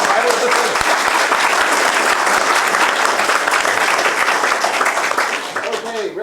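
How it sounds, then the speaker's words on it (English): A crowd in an audience breaks into a sustained, dense round of applause that stays loud throughout and eases slightly at the very end, with faint voices mixed underneath. "let's give a round of applause to the title of the film"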